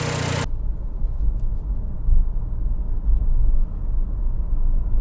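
A Nissan Juke DIG-T engine runs steadily after a timing chain repair. It gives a continuous low rumble that stays smooth and even throughout and is heard alone after a brief burst of broadband noise at the start.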